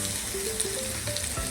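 Cubed sweet potato pieces with ghee and salt, turned over to roast on an iron griddle, give an even close sizzle with light crackle and a soft low thud near the end.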